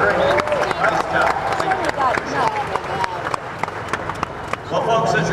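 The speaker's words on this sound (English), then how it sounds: "Now for the next round of applause for Jeff's team." An audience claps for a team at a live event, giving brisk, scattered applause that stays partly under loud talking voices.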